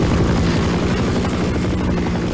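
A helicopter in the video game Half-Life drones loudly and continuously, its rotor throbbing in a steady low pulse with engine roar, with no speech.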